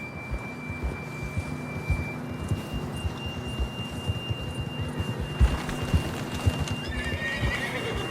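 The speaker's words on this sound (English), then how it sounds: "John was riding that horse when we left Blackwater." Horse hooves clip-clop steadily at a gallop in Red Dead Redemption 2, with a whinny near the end, over a steady game-like hum and faint tones.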